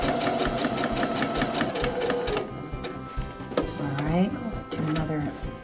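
A sewing machine stitches a tote bag in a fast, even burst of needle strokes for about two seconds, then stops as a voice talks over lighter handling and shuffling of fabric.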